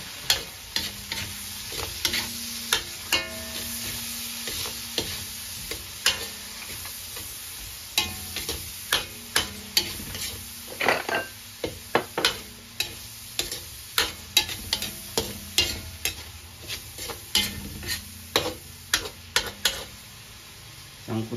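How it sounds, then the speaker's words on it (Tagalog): Tomatoes sautéing for pinakbet, with a steady soft sizzle in the pan and frequent sharp clicks and scrapes of a utensil stirring, all close up and without talk. "Gisahin natin na maayos para makuha natin yung flavor."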